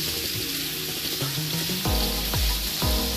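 Pepper steak searing in a pan for Jamaican pepper steak, a steady close sizzle and hiss running throughout, with a few soft thuds and scraping sounds as the meat is turned and stirred.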